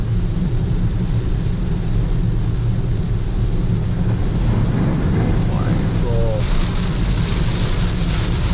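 Heavy rain drums steadily on a car on a road trip through Sukkur in Sindh, a loud constant roar with low rumbling underneath, and faint voices mixed in.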